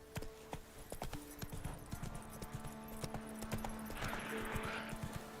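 Hooves of Roach, the horse in The Witcher 3, clip-clop at a walking pace, close and fairly quiet, with a soft ambient game bed underneath.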